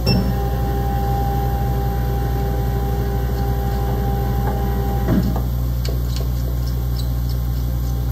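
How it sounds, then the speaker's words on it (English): Motorized bed of a commercial laser engraver lowering, a steady loud mechanical hum with faint whirring, ending in a few small clicks and taps near the close. "I'm going to lower the bed."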